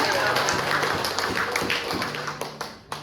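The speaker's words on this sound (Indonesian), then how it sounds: "Berikan tepuk tangan buat Allah" A church congregation applauds during a sermon, a rhythmic burst of many hands clapping in a fairly steady beat, loud at first and thinning out, with a voice and low hum beneath it.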